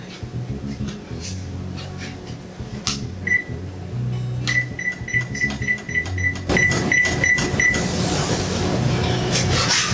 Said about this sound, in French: nous allons préchauffer le four à 400 degrés